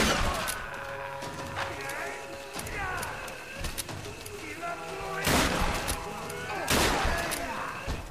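Gunfire from a weapon in the game Tomb Raider: a few sharp, broadband shots, the clearest near the middle and toward the end, set against a busy game soundscape and some speech.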